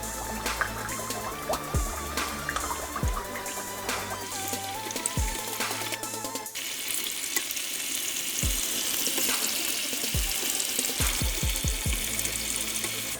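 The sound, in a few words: tomatoes frying in a pan for Nigerian fish stew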